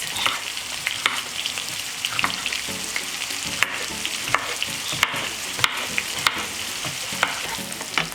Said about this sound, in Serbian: dodajem seckani crni luk i pržim ga dok ne omekša